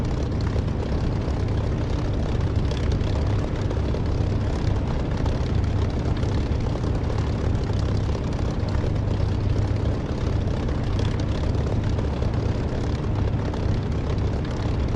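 Steady droning aircraft engine during takeoff in the DCS flight simulator game, a continuous loud roar with no talk.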